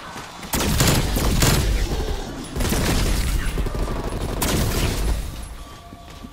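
A voice imitating the blast of an exaggerated shotgun, loud and sustained, with dense crackling bursts that swell twice over several seconds before fading.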